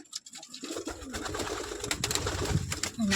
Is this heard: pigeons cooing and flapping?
yes